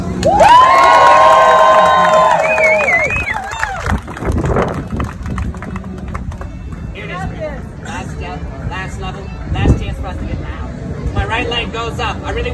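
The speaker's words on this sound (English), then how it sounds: "I really want to hear everybody clapping, everybody cheering." Crowd at a Key West street show cheering and shouting, a loud burst of whoops that settles into lively chatter and scattered calls, with a performer talking over it.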